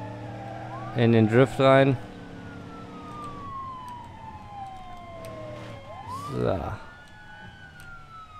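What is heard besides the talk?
police car siren in video game BeamNG.drive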